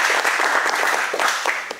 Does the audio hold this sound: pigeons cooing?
no